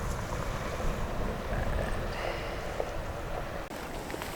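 Wind and waves on the cold Arctic Ocean shore, a continuous broadband rush with buffeting wind on the microphone and a steady surf wash, no voices.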